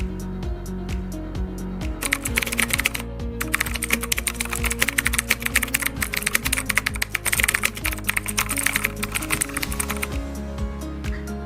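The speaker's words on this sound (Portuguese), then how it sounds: "Vou digitar os códigos e depois farei os comentários." Code is typed on a computer keyboard in rapid, irregular bursts of close, crisp keystrokes with brief pauses between them. Steady tonal background music plays underneath.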